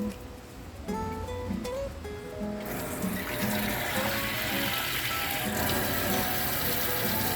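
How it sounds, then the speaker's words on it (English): Water running from a kitchen tap while making a Trini chicken foot soup, a steady rushing flow that grows louder and fuller partway through, heard alone. "I'm also going to add some water to this, maybe just a cup."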